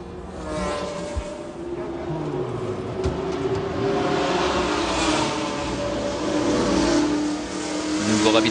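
A Porsche GT2 race car engine at Le Mans 1996 drones steadily and loudly, its pitch rising as it accelerates, with the roar filling the whole stretch.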